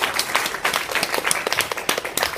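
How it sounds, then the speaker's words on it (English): An audience claps for a speaker at the close of an evaluation session, a dense, continuous patter of many hands at moderate distance. "Round of applause."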